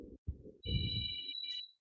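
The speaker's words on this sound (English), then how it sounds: "And I'm getting a telephone call." A phone rings with an incoming call, giving a steady electronic tone that holds for about a second, then a short second burst, sounding fairly close.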